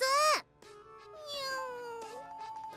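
A cat meowing in the visual novel The Fruit of Grisaia, one sharp rising-and-falling meow followed by longer drawn-out mewing calls, close and fairly quiet, alone with no talk.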